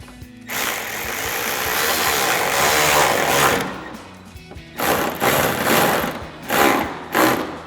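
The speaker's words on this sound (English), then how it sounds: "And we'll lock it down with our 10mm socket." Mechanical ratcheting from a 10mm socket tightening a bolt while mounting a 2005-2009 Mustang factory-style headlight, buzzing steadily for about three seconds, then returning in short separate bursts, close and fairly loud with no talk.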